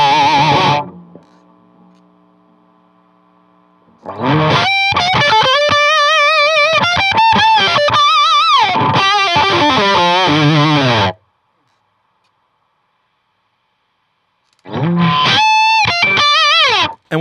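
An electric guitar played through a Boss Metal Zone distortion pedal into a boutique power amp rings out in loud, heavily distorted bursts of sliding, bending notes, with quiet gaps and a low hum between phrases.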